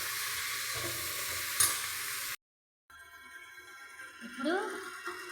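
Curry seasoned with salt and garlic chili powder being stirred in a pan, a steady sizzling scrape that cuts off briefly and resumes softer, with faint voice-like traces near the end.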